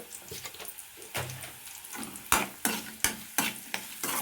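Spinach is stir-fried with onion, curry leaves and turmeric in a pan in a village kitchen, giving uneven sizzling broken by loud scraping strokes of a spatula that come faster toward the end.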